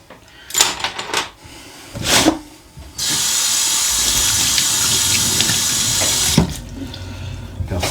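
A kitchen tap runs steadily into a sink while washing up, a continuous broadband rush lasting several seconds after brief knocks and handling noises, then cutting off with a few clatters.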